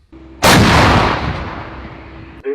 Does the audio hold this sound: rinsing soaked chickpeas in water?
no